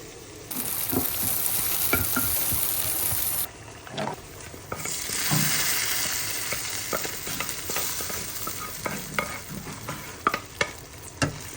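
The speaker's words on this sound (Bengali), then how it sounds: "বাগার দেওয়ার জন্য অল্প পরিমাণে তেল দিয়ে দিচ্ছি, আর একটু পেঁয়াজ কুচি, 1 কোষ রসুন কুচি আর 2টা মরিচ টানবো।" Oil tempering with chopped onion, garlic and chilies, frying steadily in a pan, with a continuous close sizzle punctuated by repeated stirring scrapes and clinks.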